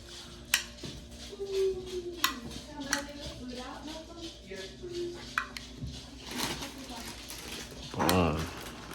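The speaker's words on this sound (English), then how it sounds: "I'm gonna try to stir this without spilling or getting the lens too steamy" Hot mixed dish stirred in a pot, with irregular clinks and scrapes of a spoon against metal, moderate and close, mixed with talking and a heavier scrape near the end.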